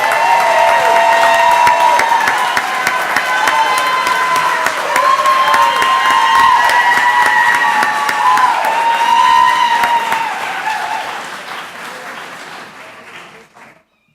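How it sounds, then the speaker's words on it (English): Sustained loud applause at a school board meeting honoring elementary principals' staffs, a crowd clapping steadily with a few cheers, then tapering off and fading to silence near the end. "One more round of applause for their staffs"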